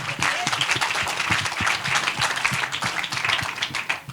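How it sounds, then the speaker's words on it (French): A festival audience at a film pitch session claps warmly for a presenter, dense continuous applause filling the room with scattered individual claps, some voices faintly mixed in. "on peut applaudir Damien qui va nous faire rentrer dans son histoire"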